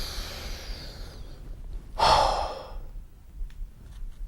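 A person takes one short, sharp sniff of an open manga page, a single close breathy burst amid quiet room noise with softer breaths around it.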